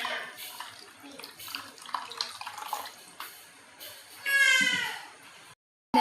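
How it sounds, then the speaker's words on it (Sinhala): Water poured into a pot to boil cabbage: scattered clinks and handling noises give way to a louder sustained gush of pouring water for about a second, then a sudden stop. "මම දැන් ඒකට වතුර දාලා තැම්බෙන්න අරිනවා"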